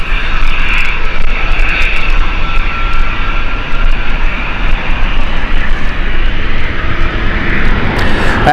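China Eastern airliner taxiing toward takeoff at Gatwick Airport, a loud, steady roar of jet engines with constant broadband rumble throughout and no talk.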